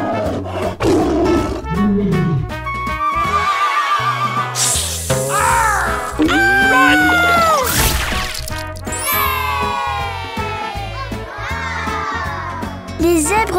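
A lion roars at a zoo, loud and close, with other animal calls and whinny-like sounds mixed in and voices heard around it.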